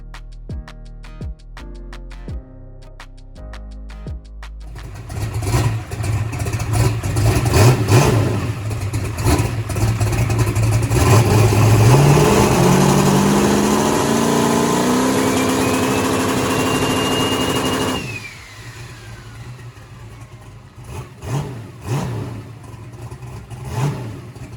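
A turbocharged car engine revs up hard and holds high rpm, the turbo spooling with a rising whine and flutter after fresh spark plugs, then drops back toward idle; loud and close, with no talk.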